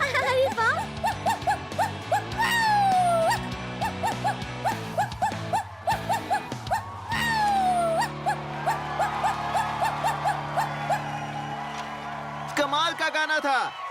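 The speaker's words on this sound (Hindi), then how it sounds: "ये बंदा तो असली रॉकस्टार जैसा भौंकता है।" A cartoon dog barks over and over in a rhythmic, rock-star style on top of loud music with a crowd, the barks repeating at a steady pace through the song.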